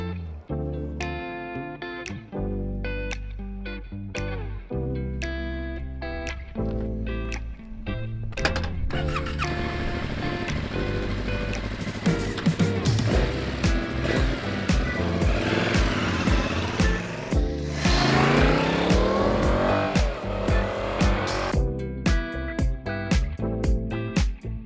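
A 2025 Yamaha MT-07 motorcycle ridden on the road, its engine revving and pulling through the gears with rising and falling pitch, loud and steady throughout with a faint whine at times.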